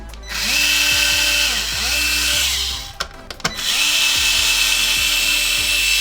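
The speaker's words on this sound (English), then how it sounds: "Now we're going to switch to the T9 bit and unscrew these two here." A small electric screwdriver fitted with a T9 bit whirs in short bursts while backing out screws from an Xbox One X, and there is a brief clack of handling partway through.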